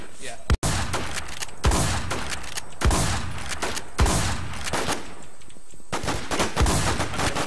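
Video game gunfire from a shotgun-style weapon with an ACOG sight: repeated loud shots and bursts, some rapid like automatic fire, spread through the clip, with players talking over it.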